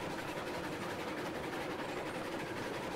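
Locomotives hauling a heavy train up a grade in the video game Railroads Online, heard as a steady, fairly loud broadband rumble and hiss that continues without a break and with no talk.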